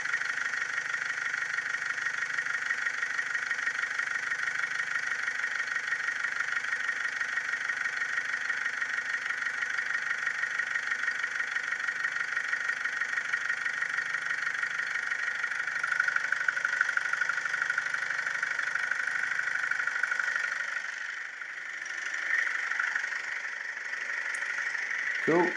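A car engine idles steadily during a power steering bleed, a constant close hum with a faint rattle throughout and a brief shift in tone near the end.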